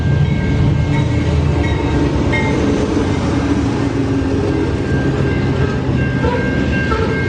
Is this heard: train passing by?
yes